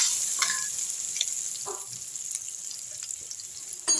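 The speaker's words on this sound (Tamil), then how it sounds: "எண்ணெயிலே போட்டுங்க இதையும் சேர்த்து நல்லா வறுத்துருங்க" Grated coconut frying in hot oil for a Tamil mudakathan keerai thuvaiyal, a steady close sizzle with a few brief stirring scrapes and a sharp clatter at the end.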